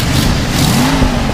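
A 1971 Ford F250 Camper Special pickup with a small exhaust manifold leak revs up briefly, the engine close and loud, its pitch rising and then dropping back.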